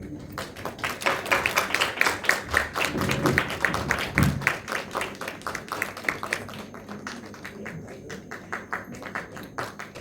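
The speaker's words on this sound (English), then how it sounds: "Can we have a bigger round of applause?" Enthusiastic applause from an audience at a farewell gathering, dense rapid clapping that stays steady and fairly loud for the whole stretch, with no talking over it.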